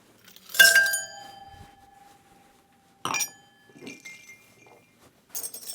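Cocktail stirred over ice in a mixing glass: bright glassy clinks and tinkles in a few separate bursts, a loud ringing strike first, then quieter rattles, with no talking.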